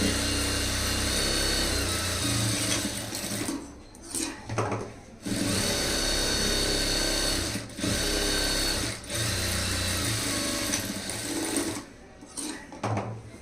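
A sewing machine stitches a high-neck blouse in long continuous runs, loud and close, with brief pauses between seams and no talking.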